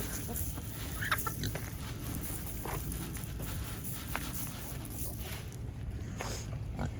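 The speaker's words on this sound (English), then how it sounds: "So at first I always feed the chickens because then they are eating" Chickens cluck and peck at scattered feed on a cold farm, soft scattered clucks and footsteps over a steady low outdoor hum, fairly quiet and close.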